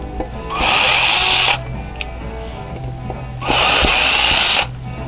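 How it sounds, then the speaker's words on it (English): A power drill backs screws out of the pickguard of a 1974 Fender Stratocaster, the rusty screws coming out in two loud, close, steady whirring bursts of about a second each with a quieter gap between them. "take the pickguard screws out"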